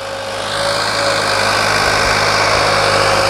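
Modified New Holland 3630 Super tractor engine, turbocharged from 50 to 65 hp, running steadily under full load, a loud continuous drone with a high whine on top and no voices.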